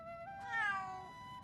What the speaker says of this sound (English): Oh, there's a kitty. Oh, he's a little kitty.